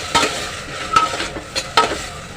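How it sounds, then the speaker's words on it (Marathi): Ripe tomatoes sautéed in a pan for a masoor pulao, with soft background sizzling and four distinct scraping strokes of a spoon against the pan at an uneven pace. "टॉमॅटो चांगला परतून घेऊया"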